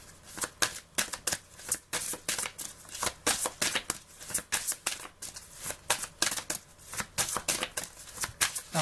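Playing cards riffled and shuffled during a tarot-style card reading, a steady run of close, crisp flutters and snaps repeating rapidly for several seconds with no talking.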